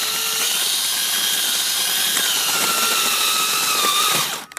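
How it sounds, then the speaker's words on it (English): A power drill whines steadily while grinding into an ice cup, carving out its cloudy interior, its pitch wavering slightly, then cuts off abruptly near the end. "We can carve that out with a drill."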